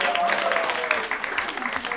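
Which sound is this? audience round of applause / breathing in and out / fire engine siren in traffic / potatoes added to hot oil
audience round of applause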